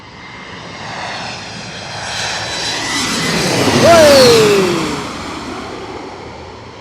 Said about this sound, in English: And that is in for the landing. That was an Embraer E175